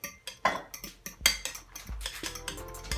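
A fork whisks eggs in a bowl for an omelette, making rapid, uneven metallic clinks and taps against the bowl, close and fairly quiet.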